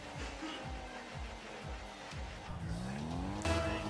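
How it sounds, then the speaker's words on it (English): Rocket League cars race and skid in a video game, with repeated engine revs rising in quick bursts, tire squeals and a steady loud motor drone, close and continuous with no talk. "I can hear the cars. I can hear the engines."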